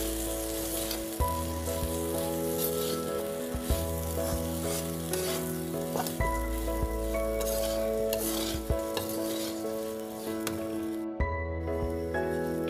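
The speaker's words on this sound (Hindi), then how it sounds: "चूड़ा मटर को 10 मिनट तक लो फ्लेम पे इसको चलाते हुए फ्राई करेंगे" Homemade chura (flattened rice) and peas being stirred and fried in a pan over a low flame, with soft sizzling under repeated scraping strokes of a spatula, close and steady, with faint background tones.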